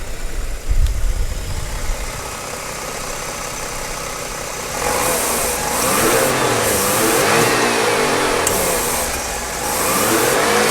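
A Mazda RX-7 Type-RZ FD3S rotary engine with low rotor compression starts rough and rumbles at idle, then revs up in several rising bursts that fall back, sounding loud, close and uneven.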